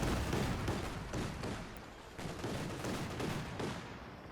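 In the Company of Heroes 2 battle, a Kubelwagen trades fire with US riflemen: dense, continuous rattling gunfire with overlapping bursts and booms, loud and busy throughout, with no talking.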